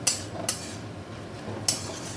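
A spoon stirs bottle gourd greens with green chilli and poppy seed paste in a pan, giving three sharp metallic clinks against a quiet background, with no voices.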